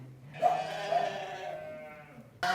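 A single sheep lets out a long, wavering bleat nearby, followed by a short pause and the start of another bleat.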